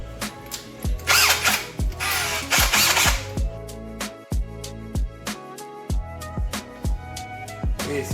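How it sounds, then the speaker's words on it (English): A power drill whirs in repeated short bursts as it drills out wax, with a couple of louder, rougher grinding stretches early on, close and loud with no talking. "We're gonna drill out the wax."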